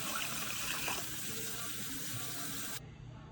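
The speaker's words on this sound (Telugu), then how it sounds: "ఒక కప్ ఇట్లా మంచిగా వాటర్ వేసుకోండి" Water runs steadily in a soft, continuous splashing stream as a cup is poured into pakodi batter, then stops abruptly near the end, leaving a quiet room.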